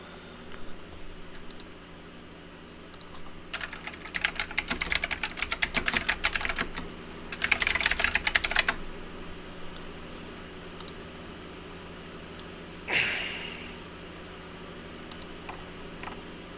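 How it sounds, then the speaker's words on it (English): Someone types a Google search on a computer keyboard during a tabletop Pathfinder game session, two quick bursts of rapid key clicks at moderate distance over a quiet room, with a faint scrape afterward. "The typing you just heard is him doing a Google search"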